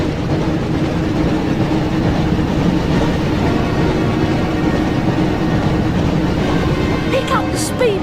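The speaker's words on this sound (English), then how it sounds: "Looks like we found the train, Ron." Train rumbling through a tunnel in the PS1 game Harry Potter and the Chamber of Secrets, a dense continuous roar with rhythmic clatter, steady and loud for the whole stretch.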